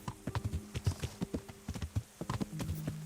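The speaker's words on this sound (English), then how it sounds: "I like the sounds of the horse galloping" A horse gallops in the video game Kingdom Come Deliverance, its hooves striking in a fast, steady, close clip-clop rhythm over a low background drone.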